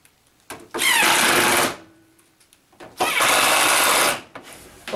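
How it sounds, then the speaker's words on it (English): A powered screwdriver drives screws into the plastic housing of a Zanussi vented tumble dryer in two loud, close bursts of about a second each, separated by quiet gaps with small handling clicks. "I'm going to put these four screws in on the plastic"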